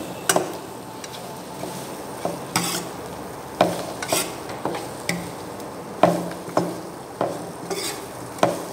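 Leaves being stirred and tossed with oil in a pan for a patrapottali herbal poultice, repeated close scraping strokes and clinks of a utensil against metal at a steady pace over a faint sizzle.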